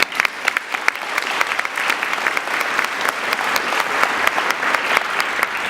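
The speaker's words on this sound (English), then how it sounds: "Give yourselves a round of applause." An audience at a Girl Scouts Gold Award ceremony gives itself a loud, sustained round of applause after a keynote speech, dense steady clapping with occasional sharper claps that continues evenly throughout.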